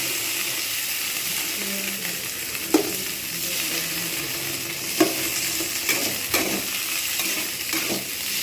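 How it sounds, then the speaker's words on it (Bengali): Boiled potatoes stirred into hot oil in a frying pan, giving a steady low sizzle with several sharp spatula clinks and scrapes against the pan, close and moderately loud. "এইবার আমি এতে আলুগুলো দিয়ে দেবো বয়েল করা আলু এগুলো জাস্ট অল্প করে আমি নেড়ে নেবো"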